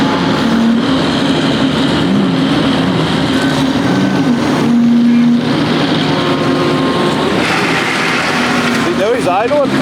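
A vehicle engine idles at a farm site during delivery of a large shop building, a steady low rumble with a faint drone layered over background activity.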